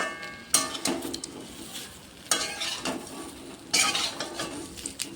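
Spiced chalta (elephant apple) pickle stirred in a pan, with three bursts of scraping spoon against metal over a soft sizzle, close and fairly quiet.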